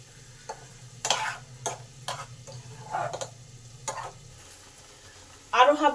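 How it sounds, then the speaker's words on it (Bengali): Raw mango chutney is stirred in a pan as sugar melts, with scattered spoon scrapes and clicks over a soft simmer and a brief voice near the end. "কন্টিনিউ নেড়ে যেতে হবে চিনিটা গলে আবার একটা থক্কাকে ভাবে এলে তারপরে আমের চারটি কমপ্লিট হয়ে যাবে"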